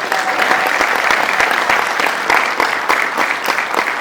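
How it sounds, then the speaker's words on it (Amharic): Sustained applause from an audience at a talk on Ethiopian history, a dense, steady wash of clapping that stays loud and even throughout with no pauses. "አጨብጭቡላቸው።"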